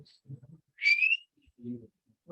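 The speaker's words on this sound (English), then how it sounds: "You got the whistle skills." A short, bright rising whistle stands out between soft murmured voices nearby.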